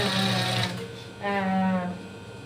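A sewing machine stitches a bolster pillowcase in two quick bursts of rapid mechanical clatter separated by a short pause, with a voice briefly audible alongside.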